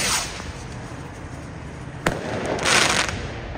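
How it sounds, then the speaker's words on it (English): Fireworks set off in the streets of Amsterdam: a sharp bang punches through a constant outdoor hiss and rumble, followed by a louder crackling burst that lingers for a moment. "In Amsterdam, they just let fireworks off in the streets."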